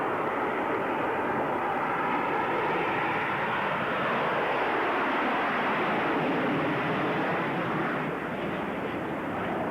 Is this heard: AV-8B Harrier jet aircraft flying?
yes